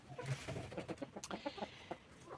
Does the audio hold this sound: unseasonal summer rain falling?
no